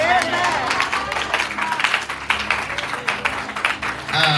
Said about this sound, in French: On continue d'applaudir.